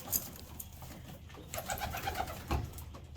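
Pigeons cooing around a trap during trap training, a soft series of low throaty coos with some shuffling and one brief bump, fairly close and moderately quiet.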